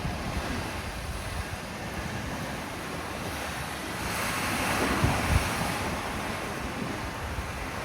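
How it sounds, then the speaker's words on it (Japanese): Ocean waves wash onto a beach on Yoron Island, a continuous soft surf wash with one fuller swell rising midway, mixed with wind rumble on the microphone and no voices. "そして波の音にもとても癒されます。"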